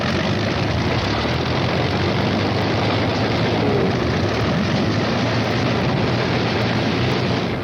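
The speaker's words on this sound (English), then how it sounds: "Out on the line, General Moore's P-51s are warming up for the longest fighter flight on record." P-51 fighter planes warming up their engines on the flight line before a long-range mission, a steady heavy roar of piston engines idling without pause, loud and broadband throughout.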